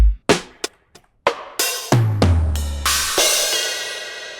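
Sampled drum kit hits played on a KO II sampler, triggered over MIDI from an electronic kit: sparse single kick and snare strikes, then a deep tom and cymbal crashes building into a sustained wash, loud and alone.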